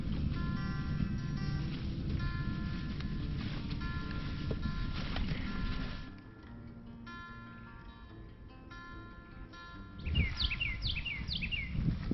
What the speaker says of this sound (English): Listen to all the birds up here.